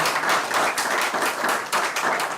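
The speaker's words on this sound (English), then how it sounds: "Give him a round of applause again" Steady applause from an audience at an academic event on higher-education accreditation, dense continuous clapping filling the hall without any talk over it.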